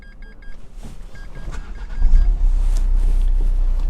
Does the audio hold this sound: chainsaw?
no